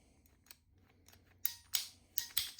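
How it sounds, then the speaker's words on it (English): Plastic water pipe being cut with a pipe cutter for a SharkBite push-fit fitting on an outdoor hose spigot repair, a run of sharp, close snips and clicks growing louder toward the end, with no talking. "Now, let's proceed with a fresh cut."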